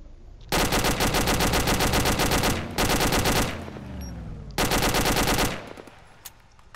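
Automatic weapon fire in the military shooter ArmA 2 comes in three long, loud, rapid bursts, each cut off sharply with a brief fading echo after, and no voices over it.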